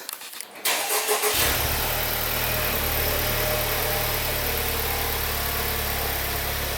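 A Honda Civic Type R (FL5) with its stock exhaust cranks and fires up, then settles into a steady, loud idle with a deep, even rumble that continues to the end.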